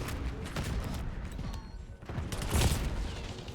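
Gunfire in the Black Ops 6 video game, a fairly faint, dense burst of shots and mechanical clatter with a sharper volley near the end.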